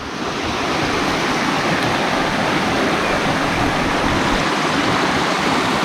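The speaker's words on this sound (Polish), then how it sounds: "Kamar, patrz ile wody." Steady, loud rushing water of a mountain stream in the Łomniczka valley, Karkonosze, fills the whole clip, a dense continuous roar like a torrent or waterfall close by, with no voices.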